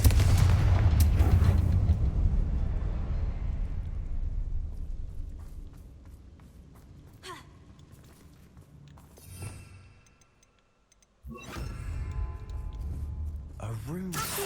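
Fiery Confringo spell blasts in Hogwarts Legacy: a heavy, booming explosion at the start rolls off into a long decay, then two sharper bursts follow later, with quiet stretches between.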